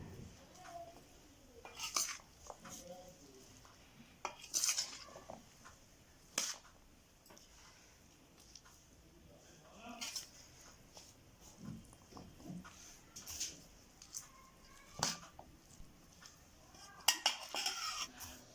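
Chickpeas being stirred with oil and spices in a pan while cooking Pindi Chana, a run of irregular metallic scrapes and clinks of a spoon against the pan, fairly faint and close, with no talking.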